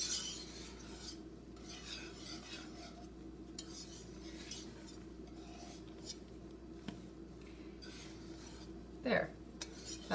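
A spatula scrapes and sweeps softly through a cheese soufflé mixture in a bowl, egg whites being folded in with gentle, quiet strokes and a few light clinks against the bowl.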